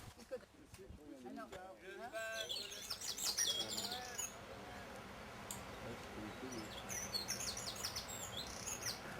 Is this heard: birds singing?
yes